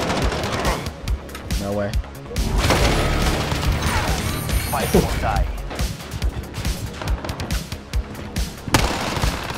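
Rapid bursts of gunfire and sharp impacts in the video game Warzone, dense and loud, mixed with excited talking and exclamations from a player throughout.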